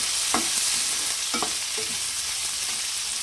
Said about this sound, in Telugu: ఫ్రై చేసుకుని ఉల్లిపాయ చీరికలు వేసుకుని బాగా ఫ్రై చేసుకోవాలండి